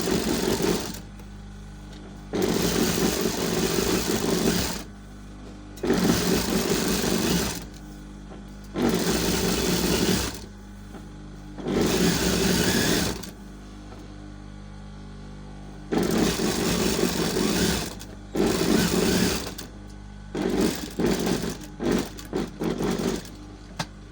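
A sewing machine stitches a garment collar in loud sustained whirring bursts of a few seconds each, separated by brief quiet pauses, close up with no talking.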